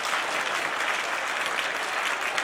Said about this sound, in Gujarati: જોરદાર તાળીઓના ગણગણાટ સાથે